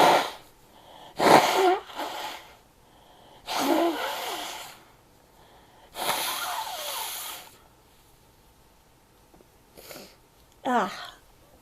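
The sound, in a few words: blowing nose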